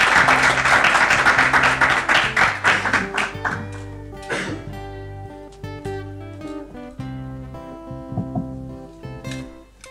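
Applause welcoming guests at a science talk held at an institute, a burst of clapping loud at first that thins out and fades over a few seconds while music plays and continues.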